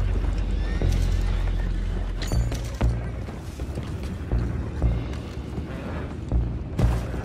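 Horses whinny and neigh in Red Dead Redemption 2 over a low rumbling bed, with scattered hoof clops and mechanical thumps, no talking.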